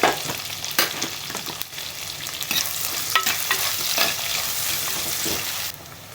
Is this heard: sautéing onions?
yes